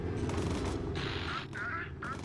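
Heavy gunfire rakes a bomber in the World War II flying game Bomber Crew, a dense, continuous rattle of shots over a low engine drone, loud and close throughout.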